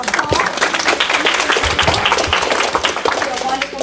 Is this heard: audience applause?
yes